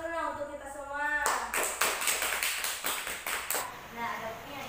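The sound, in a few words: class clapping hands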